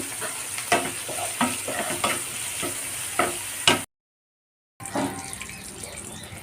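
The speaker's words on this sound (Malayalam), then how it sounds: "നന്നായിട്ടൊന്ന് വഴറ്റിയെടുക്കാം കേട്ടോ കുറച്ച് ഉപ്പിട്ട് കൊടുക്കുന്നുണ്ട്" Onions sautéing with salt in a pan, with bursts of stirring and scraping over a steady background sizzle, then a brief cut to silence before the frying sound resumes.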